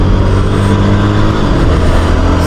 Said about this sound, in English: Okay, so I gave a max braking.